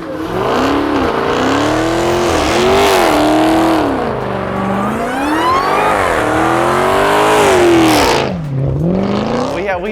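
A car engine, the ENR #19, revs hard and loud up and down through repeated rises and falls for about ten seconds, close by, with a brief tire squeal and voices in the background.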